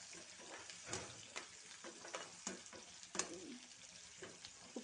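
Onion frying in tempering oil for an uppu gongura pickle, a soft, steady sizzle with faint crackles and light stirring clicks, low and close, with no voices.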